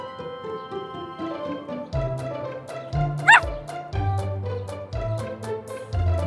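A cartoon puppy barks about five times in a quick, fairly loud series of yips, each over a low humming tone, with a sharp squeal in the middle.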